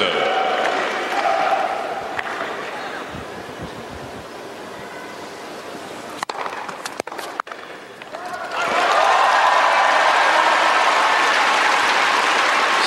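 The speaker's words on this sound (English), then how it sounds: "So something for this pro-Russian crowd to cheer about." Pro-Russian crowd at a women's tennis final in Moscow breaking into loud, sustained applause and cheering after a quieter stretch with scattered claps, a commentator talking beneath.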